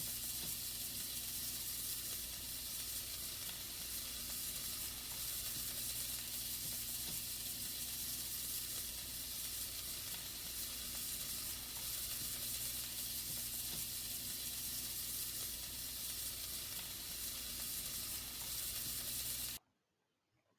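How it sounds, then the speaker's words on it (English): Onion and minced garlic sauté in olive oil in a preheated pan, a loud, even hiss of frying that holds for nearly twenty seconds before cutting off abruptly. "add our onion and 2 teaspoons of minced garlic, and I'm going to allow this to saute for 1 minute"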